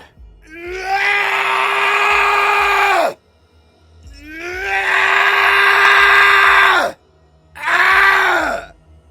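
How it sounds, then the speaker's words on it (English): A man bitten hard on the arm lets out three long, loud, close yells of pain, each a sustained strained cry separated by short silences. "He let out a yell and loosened his grip just enough for me to pull free."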